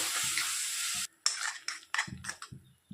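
Mango halwa being stirred in a pan after mango juice goes in: a steady sizzle for about a second, then a short pause and a run of scraping spoon strokes against the pan, close and fairly loud, with no talking.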